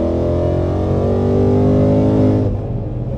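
A Whipple supercharged 2024 Mustang engine revs up loudly and close, its rising harmonic roar climbing steadily before cutting off abruptly near the end.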